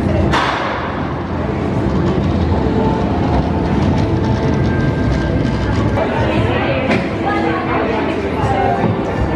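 The tiny Mail Rail underground train rumbles and clatters through its narrow tunnel, a loud continuous rolling roar with thumps and rail clicks, close and enveloping.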